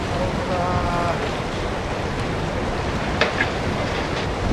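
The tsunami's second wave surges near Kamaishi city hall, a broad, continuous roar of rushing water mixed with wind buffeting the microphone and a few faint distant voices.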